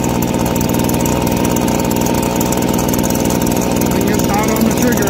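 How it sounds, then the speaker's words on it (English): A Stihl handheld leaf blower engine idles steadily after being choked, fitted with an aftermarket fuel system kit; a loud, continuous two-stroke drone runs throughout without a break. "So it ran out of fuel, so we're going to choke it. Going to see if it'll idle."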